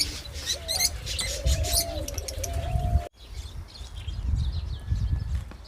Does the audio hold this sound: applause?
no